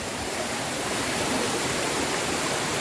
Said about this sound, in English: Oh my gosh, that's a most beautiful waterfall I have seen.